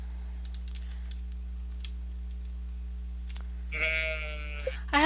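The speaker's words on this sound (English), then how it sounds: "So I want a baby sheep." In the Stardew Valley farming game, a baby sheep bleats twice near the end, short wavering cries over a steady electronic hum and faint clicking, after a quiet stretch.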